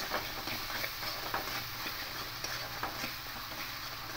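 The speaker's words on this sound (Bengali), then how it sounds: "দিয়ে খুব ভালো করে মশলাটা এভাবে কষিয়ে নেব" Masala with salt and sugar stir-fried in a pan for a vegetarian milk-and-pointed-gourd dish gives a steady, faint sizzle with soft scraping strokes of a spatula throughout.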